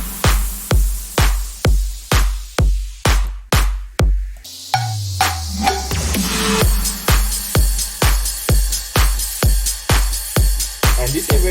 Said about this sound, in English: We have also the drums with the kick, the clap, the hit hat, and it all sounds like this.